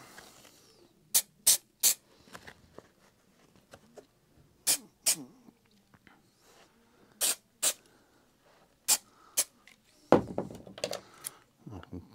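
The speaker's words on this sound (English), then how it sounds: "I will just spray some glue in here" Short bursts of spray adhesive hiss from a can onto fabric for covering a VW T5/6 pillar trim, about a dozen sharp, separate puffs close up, with quiet handling noises and a clunk near the end.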